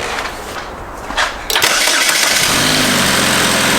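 A 2.4-litre Alpheon car engine with a misfire fault cranks briefly, catches and starts, then settles into a loud, steady idle close by, with no talk over it.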